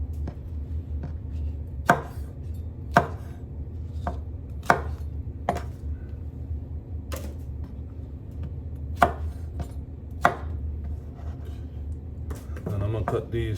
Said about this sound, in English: Alright, let's start with the okra. So I'm cutting off the tops and the bottoms.